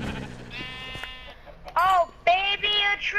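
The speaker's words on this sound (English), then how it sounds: "I got a sheep!" Sheep bleating in the video game Minecraft on PlayStation 4: a few wavering, tonal bleats, close and clear, with a voice talking in the background at the start.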